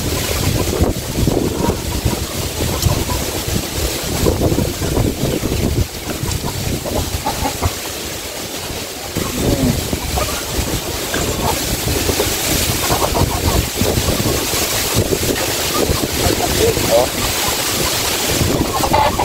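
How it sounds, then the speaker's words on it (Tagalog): Strong wind gusts roar and buffet in a storm, loud and continuous with rumbling low rushes that briefly ease midway before rising again. "Grabe, hangin."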